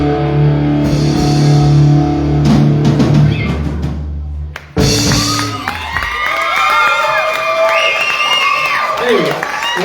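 A bar crowd at a benefit show cheers and whoops after a song ends, loud and close, with shouting voices and the band's sound cutting out partway through.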